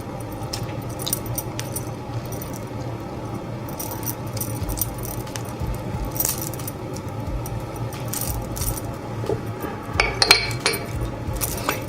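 A utensil stirs tomato paste, Dijon mustard and seasoning into a pot of baked navy beans, giving repeated clinks and scrapes against the metal with a soft background hum.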